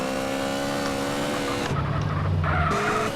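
Motorcycle in GTA San Andreas (MTA) game audio, a continuous buzzing engine tone that shifts pitch partway through, with tire skid and screeching texture, loud and steady throughout.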